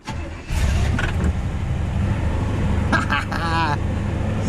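A 1968 Chevrolet Impala, parked for years, cranks briefly and fires into a steady mid-pitched idle that runs loud and close. Voices can be heard over the engine.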